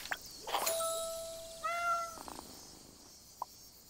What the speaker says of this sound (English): That's Luna, my cat!